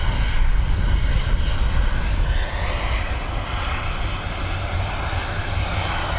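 A Ryanair passenger jet at Dublin Airport, a loud, steady engine roar with broad rushing noise throughout, close by and continuous with no talk over it.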